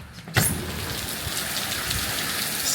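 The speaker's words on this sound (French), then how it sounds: "En Thaïlande, quand il pleut, c'est vraiment pas des blagues." Heavy tropical rain pours steadily in Thailand, a dense continuous hiss of downpour with a faint low rumble beneath, opening with a brief sharp knock.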